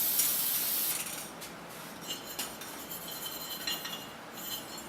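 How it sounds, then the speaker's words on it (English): A spray of True Strip degreaser onto raw aluminum gun parts prepped for Duracoat, a loud hissing burst at the start followed by quieter intermittent sprays and rubbing. "I'm actually going to use this True Strip degreaser that they send with the kit, just to make sure all the parts are ready to accept the Duracoat."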